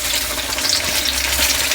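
Eggplant bajji fritters sizzle steadily in hot oil, a dense, continuous frying hiss with no pauses, close and moderately loud throughout.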